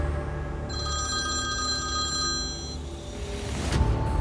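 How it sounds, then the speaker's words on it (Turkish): A telephone rings with a bright, trilling electronic bell pattern over a low background hum, sustained for a few seconds before cutting off, followed by a brief rustle. "Ama Vahap arıyor. Aç"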